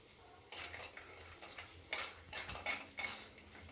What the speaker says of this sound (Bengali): তার আগে আমি বাদামটা ভেজে নেব